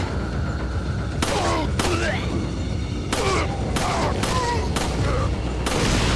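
Gunfire in the video game Resident Evil 4, several sharp loud shots spaced irregularly over a few seconds amid background game noise, leading up to an enemy being blown up.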